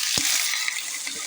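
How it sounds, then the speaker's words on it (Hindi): Chicken pieces hit hot oil in a pan for chicken masala, giving a steady loud sizzle with a sharp burst at the moment they drop in and light stirring scrapes throughout, no voices. "चलिए अब इसमें हम अपना चिकन डाल देंगे।"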